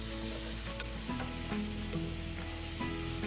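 Pork belly (liempo) sautés with onions in a pan, a loud continuous sizzle and crackle close up, with faint stirring and no voices.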